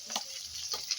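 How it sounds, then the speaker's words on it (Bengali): Crushed garlic and chopped onion frying in oil for a boal fish curry: a close, steady sizzle with a few bursts of stirring scrapes over about a second. "পেঁয়াজ রসুন ভাজা ভাজা হয়ে গেছে।"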